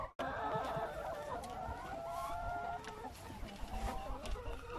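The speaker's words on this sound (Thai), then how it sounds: "ไก่มีอยู่นี่ประมาณร้อยกว่าตัวนะคะ" Chickens clucking on a farm with over a hundred birds kept for eggs, steady overlapping clucks and calls at moderate distance, continuous throughout, with faint voices nearby.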